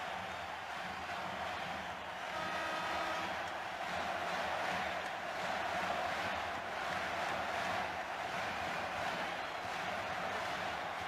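Arena crowd at a 1989 Bulls-Cavaliers playoff basketball game, Game 5, a steady broad roar of many voices filling the space, loud and continuous with slight swells throughout.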